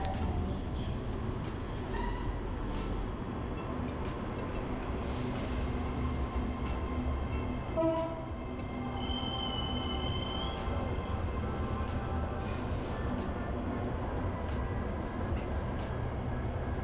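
A long, steady rumble of a long-distance Thai train rolling along the rails, with faint high squeals and insect-like chirps over the continuous low roar.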